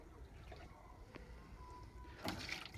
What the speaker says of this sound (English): Get a little more water here